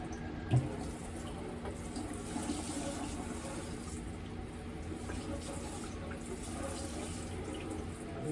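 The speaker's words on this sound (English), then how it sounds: "just make sure you also wash out your sink too." Tap water runs steadily into a kitchen sink as it is rinsed out while making cantaloupe lemonade, a quiet continuous splashing with a small knock near the start and no talking.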